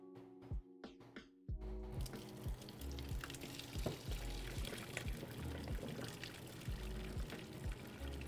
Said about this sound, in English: Pour the boiling water down.